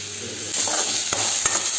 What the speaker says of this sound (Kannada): ಚೆನ್ನಾಗಿ ಸ್ವಲ್ಪ ಈರುಳ್ಳಿ ಫ್ರೈ ಆಗಬೇಕು.